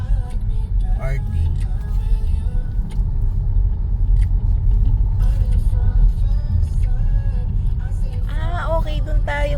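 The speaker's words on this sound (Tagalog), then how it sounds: "Traffic." Road traffic rumbles steadily as cars pass close by in a continuous low drone, with faint voices and brief higher sounds over it.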